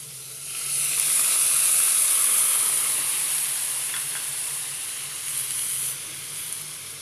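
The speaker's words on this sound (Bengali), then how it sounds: "এরপর আমি এর মধ্যে দুধ দিয়ে দিচ্ছি।" Milk poured into a pan of frying grated beetroot halwa sets off a loud, steady sizzle and hiss that swells in the first second, then eases slightly but keeps going throughout, with no talking.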